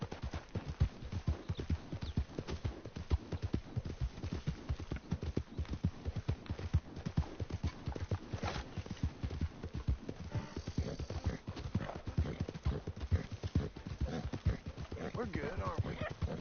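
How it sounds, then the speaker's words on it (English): Horse hooves clip-clop steadily in Red Dead Redemption II, a brisk rhythmic beat of close footfalls running through the whole stretch, with a voice talking over it. "Ain't you a good horse?"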